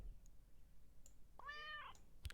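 A cat in the Super Auto Pets game gives a single short, clear meow when bought, rising and falling over about half a second against near silence, followed by a soft click.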